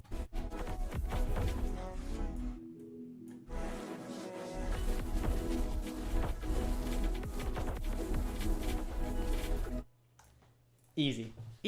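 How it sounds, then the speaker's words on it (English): A granular synth resamples an electronic track into a dense, shimmering, stuttering texture with choppy grains and a short drop-out partway, then falls to near silence before a brief return. "This is just a really nice granular synth."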